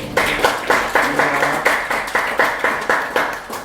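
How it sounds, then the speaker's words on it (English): Rhythmic, unison clapping from a gathered audience at an evening of spiritual poetry and Bengali bhajan singing in Canterbury, beating in a steady regular pulse throughout at close range, with no voices over it. "round of applause"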